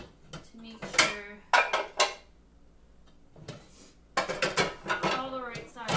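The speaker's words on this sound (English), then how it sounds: "And I bring those over here to this cabinet. Where my pots go, and I line them up" Metal pots and pans clank and clatter as they are set in a row inside a kitchen cabinet while a dishwasher is unloaded, in several close, bright bursts of knocks and scrapes with brief pauses between them.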